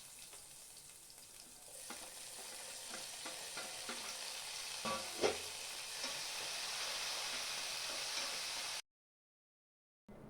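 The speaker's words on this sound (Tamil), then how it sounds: "ஒரே ஒரு தக்காளி பொடியாக கட் பண்ணினது அதையும் சேர்த்து வதக்கிக்கலாம்." Chopped tomato sautéing with onions in a pan for a fish kuzhambu, a continuous close sizzle broken by stirring scrapes, with a louder clatter midway before the sound cuts off.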